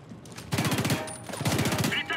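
Rapid bursts of automatic gunfire in the video game Homefront: The Revolution, two loud sustained volleys close together separated by a short pause, with a voice faintly present.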